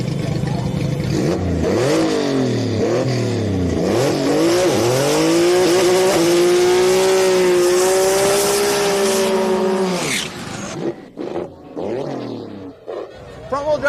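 Outlaw import drag race cars, front-wheel and rear-wheel drive, accelerate hard down the strip, a loud sustained engine roar climbing through gear changes for about ten seconds before fading into crowd and announcer chatter.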